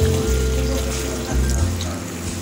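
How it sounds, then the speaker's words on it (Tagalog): Water poured into a cooking pot while making chicken: a steady, loud splashing pour with a low resonant gurgle running throughout. "maglagay ako ng konting tubig"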